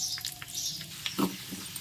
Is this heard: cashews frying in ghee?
yes